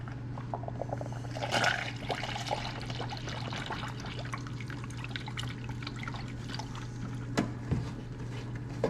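Orange coolant trickles and drips into a car's cooling system during a flush, a faint, steady pour at close range over a constant low hum with a few small clinks.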